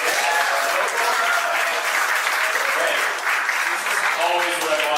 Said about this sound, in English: Clap it up if you're a local